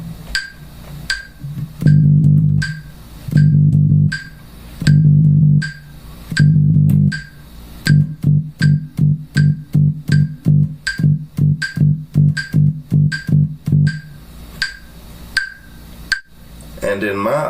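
Electric bass guitar playing groups of four sixteenth notes followed by four sixteenth rests, then alternating notes and rests more quickly, over steady metronome clicks, up close with no talking.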